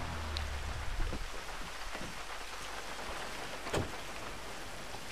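Heavy rain pours down in the video game GTA V, a continuous dense hiss of drops with a couple of brief soft thuds, and no voices.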